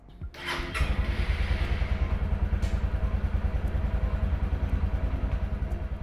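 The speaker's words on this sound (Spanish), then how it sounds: "Y ahora sí podemos arrancar nuestra moto." A motorcycle jump-started from an external battery fires up loud and close after a brief cranking clatter, then settles into a steady, rhythmic idle that thumps on without pause.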